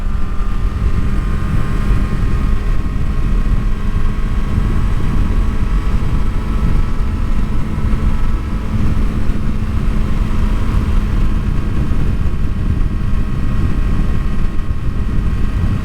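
A 2023 Kawasaki ZX-6R sport motorcycle engine runs loud and steady, its exhaust a deep, rough drone held at constant revs with no pauses.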